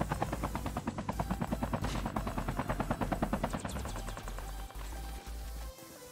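Helicopter in Call of Duty Mobile Battle Royale, rapid rhythmic rotor thumps pounding loudly and close, easing off into a lower steady drone near the end, no talking.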